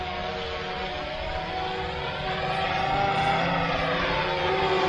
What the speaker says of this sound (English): You hear the buzzing. We got the drone going.